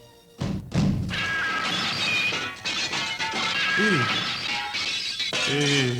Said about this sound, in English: I've broke the glass in door